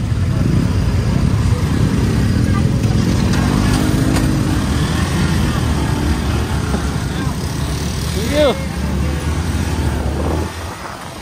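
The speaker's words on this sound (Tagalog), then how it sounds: "May motor yata." Motorcycle and car engines rumble steadily in close street traffic at a red light, with a brief tonal honk near the end and a few voices in the background.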